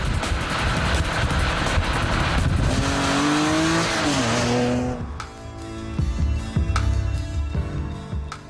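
A powerful Hartge-tuned BMW 3 Series Compact engine revs hard and climbs in pitch, then drops off, followed by quieter intermittent engine burbles and pops nearby.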